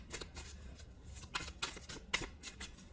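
Tarot cards shuffled close by, soft papery riffles and slaps coming in several quick bursts, quiet and alone.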